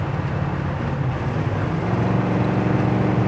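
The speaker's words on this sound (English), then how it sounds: "Exhaust sounds great. Hammered it down a little bit." Steady low engine rumble and exhaust drone from a 1941 Ford Super Deluxe cruising at about 60 mph, with constant road and wind noise throughout.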